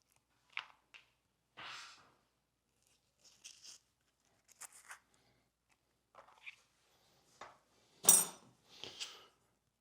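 A spoon scoops avocado flesh onto a cutting board in a quiet kitchen: soft, sparse scrapes, squelches and light taps come in short separate bursts with silence between them.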